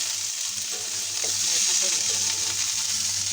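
Bitter gourd and potato pieces fry in hot oil, a steady close sizzle with faint stirring scrapes running throughout.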